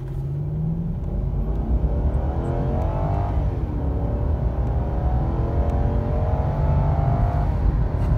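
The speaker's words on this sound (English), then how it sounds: "Engine sounds so good." Lexus LS 430 sedan accelerating on a Blue Ridge test drive, a steady close engine rumble with rising and falling tonal sweeps as revs climb, continuous and loud throughout with no talk.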